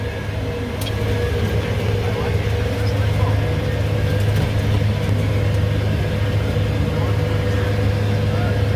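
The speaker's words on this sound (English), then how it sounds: "Gonna rev this up a little more." A tractor engine rumbles loud and close, revving up to a higher steady drone and holding there, with someone talking over the engine.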